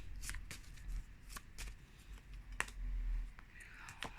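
Oracle cards are shuffled and drawn by hand at close range, a series of crisp riffling flicks and sharp card snaps with short pauses between them, quiet and intimate.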